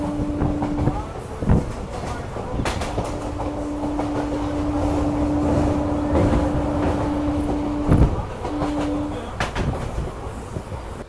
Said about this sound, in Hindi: और फाइनली अपना अराइवल हो रहा है बलरामपुर रेलवे स्टेशन में